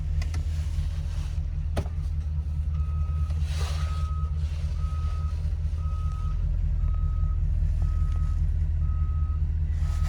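A large mobile library truck in reverse gives its parking sensor warning, evenly spaced short electronic beeps over a loud, steady diesel idle rumble, with no talking.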